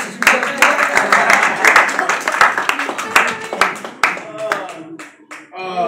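Clapping from a crowd at a school sports banquet, a middle school varsity and junior varsity awards event, fills the room with dense, loud applause that thins toward the end, with voices mixed in.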